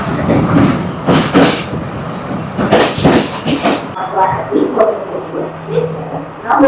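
A crowded Sri Lankan train pulls into Kalkawala railway station, with loud rumbling and clattering of wheels and carriages that eases into a quieter stop while people talk nearby.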